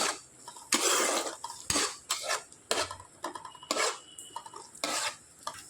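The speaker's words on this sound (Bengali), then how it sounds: "পেঁয়াজটা একটু নাড়াচাড়া করে নেব।" A spoon scrapes and stirs two medium onions, chopped small, in a pan. The strokes come in a rhythmic series of close, clattering scrapes, roughly one per second, with no voices.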